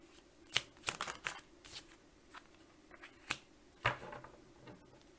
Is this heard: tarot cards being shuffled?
yes